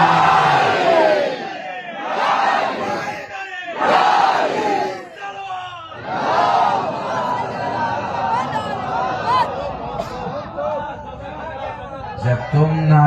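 A religious gathering's crowd shouts the Naara-e-Haidari slogan in loud rhythmic call-and-response bursts, a lead voice followed by the mass roar, repeated several times before fading into mixed shouting and chatter.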